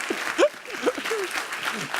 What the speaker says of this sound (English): Can we get a round of applause, please, for Tom